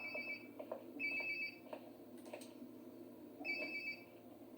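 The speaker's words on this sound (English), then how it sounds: "Sounds like my phone is definitely nearby." A phone rings in the video game Life is Strange: Before the Storm, giving short repeated electronic trills in separate bursts, fairly quiet against a soft background hum.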